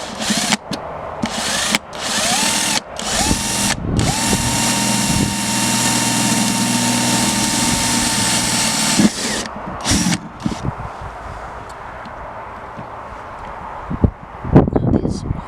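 A power drill bores holes for a wood burning stove flue in a campervan, with several short bursts, then a long steady whining run, more brief stop-start revs and scattered clunks and handling noises.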